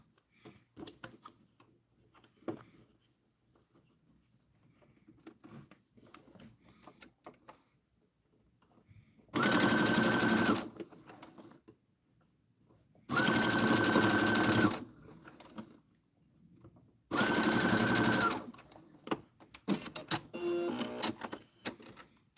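A sewing machine stitching a zipper pouch runs in three loud, even bursts of about a second each, separated by quiet pauses filled with faint handling and rustling.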